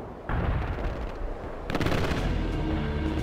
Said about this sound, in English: Firing artillery at the coordinates.